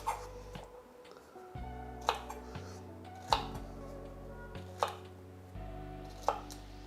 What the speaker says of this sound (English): so I'm gonna go ahead and finish cutting all our okra